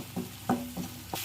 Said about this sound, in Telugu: ఈ టమాటా గ్రేవీ అంతా బాగా ఫ్రై అయిపోవాలి.